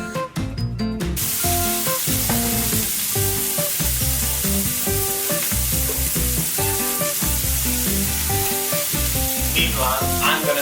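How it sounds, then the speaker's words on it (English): Bacon crisping in a frying pan, with a steady loud sizzle and crackle throughout and occasional stirring or scraping. "I'm gonna use the same pan to get my bacon crispy"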